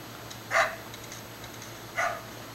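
A dog in the video game Resident Evil 4 gives two short, sharp barks about a second and a half apart over a quiet game background.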